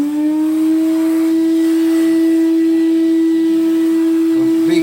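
A vacuum cleaner hoovers ash out of a Stovax Stockton 5 wood stove, giving a steady, loud, close motor whine with a strong sustained tone and a brief rattle of debris near the end.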